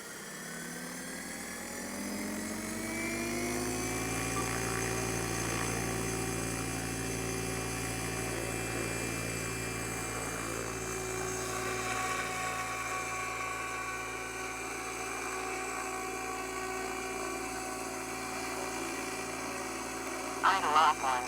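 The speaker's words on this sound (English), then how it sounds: "Throttle active." An Align T-Rex 760X RC helicopter spooling up, its rotor and motor whine rising steadily in pitch and then holding a loud, continuous drone close by, with a few brief knocks near the end.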